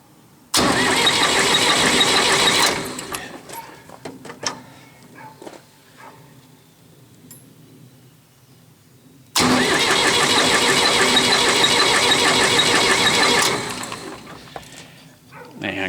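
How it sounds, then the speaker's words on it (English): A 1910 Ford engine turned over by jumping the starter, two long loud cranking bursts of several seconds each, close by, with a quiet pause between them. "We will just jump the starter."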